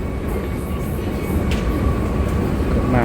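Continuous low rumble of an underground train at Sukhumvit MRT station in Thailand, with rail noise and faint squeals, a steady roar filling the space without talk.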